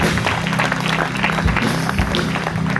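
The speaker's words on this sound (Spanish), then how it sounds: "Bríndale un fuerte aplauso al Señor." A church congregation claps hard and steadily during a prophetic sermon, a dense, loud wash of hands that rolls on without a break, with low murmuring underneath.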